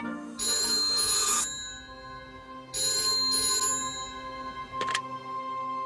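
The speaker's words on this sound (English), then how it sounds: "You turn the crank, and it makes the other phone ring." An old crank telephone bell rings in two loud, jangling bursts separated by a pause, followed by a brief clack.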